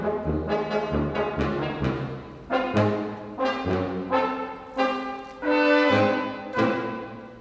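A brass quintet performs in a controlled-error style that mimics mistakes, with short punchy chords and staggered, overlapping notes in an uneven rhythm, loud and close, building into longer sustained blasts.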